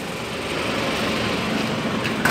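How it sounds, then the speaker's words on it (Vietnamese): A 2003 SsangYong Musso's Mercedes diesel engine idles smoothly, a steady, even hum that stays loud and constant throughout with no voices over it. "máy đang nổ rất là êm"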